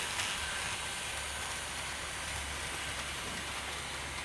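A Bachmann Thomas & Friends model train, Emily, runs along an indoor track with a faint, steady rumble that carries on without pause throughout.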